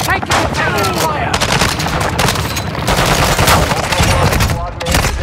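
Dense, continuous automatic gunfire and rapid bursts from a Call of Duty Warzone match on Ashika Island, loud and close throughout with overlapping shots and some faint voice chatter underneath.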